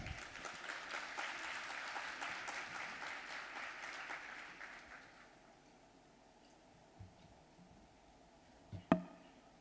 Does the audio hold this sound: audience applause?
yes